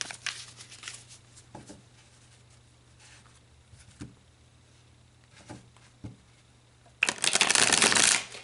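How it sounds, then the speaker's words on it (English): Tarot cards are shuffled by hand during a Scorpio love reading, with soft intermittent riffles and taps before a loud, sustained rapid shuffle near the end, close and alone without speech. "Okay, so let's pull some more cards."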